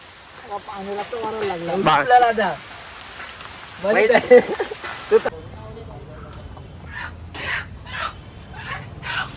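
Heavy monsoon rain falls during an outdoor party, pattering and splashing on a surface. Voices sound over the first half, and the rain carries on alone afterward with distinct drips and taps.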